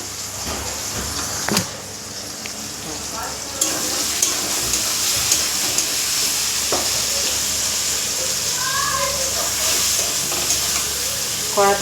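Chilli paneer posto stir-frying in a kadai with potatoes and whole dried red chillies, a loud continuous sizzle broken by scraping stirs and a few sharp clanks of the spatula against the pan.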